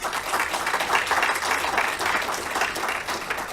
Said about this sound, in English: I'm not so sure you ought to be clapping for that part.